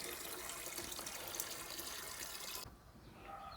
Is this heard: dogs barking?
no